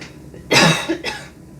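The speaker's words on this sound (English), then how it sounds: "I'm going to cough." A single loud cough, a harsh burst followed by a shorter second hack, close to the listener with quiet room tone around it.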